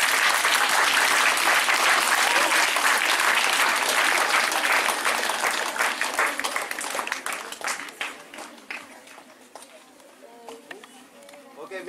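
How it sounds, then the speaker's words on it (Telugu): Students applaud after a school rangoli competition at Sri Saraswathi Vidyaniketan High School: loud, dense clapping from a crowd that gradually thins into scattered claps toward the end. "అందరికీ ఒకసారి గట్టిగా క్లాప్స్."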